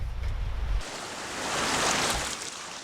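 Sea surf washing in at a village shore in Uljin, North Gyeongsang, a steady broadband rush that swells louder midway, preceded by a brief low rumble at the start.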